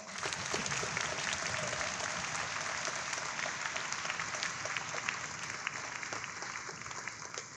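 Sustained applause from a school audience at a Veterans Day convocation, a dense, steady clatter of many hands clapping at once, loud and close, continuing without break throughout.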